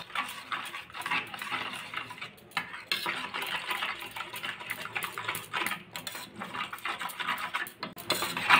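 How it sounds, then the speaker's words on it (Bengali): Raw mustard oil being mixed into a cauliflower paste with green chilli, producing soft rhythmic scraping and stirring clatter against a bowl, close and continuous with brief pauses, under background music. "2 চামচ কাঁচা সর্ষের তেল। ভালো করে মিশিয়ে নেব।"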